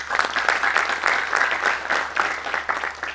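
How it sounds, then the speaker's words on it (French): An audience applauds doctoral students at the opening session of an international higher education colloquium, with dense, sustained clapping from a large hall crowd at an even loudness throughout. "Je vous demande de les applaudir"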